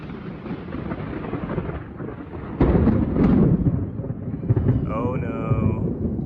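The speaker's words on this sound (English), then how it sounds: "Listen to the thunder." Thunder rolls over an outdoor yard where fresh cement is being covered, a loud rumbling burst swelling midway above steady wind and rain noise, with a voice talking over the start.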